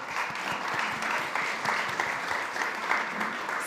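Steady audience applause at a food-focused summit panel at SXSW 2025, a dense, even wash of clapping from a crowd that holds at a constant level throughout with no voices over it.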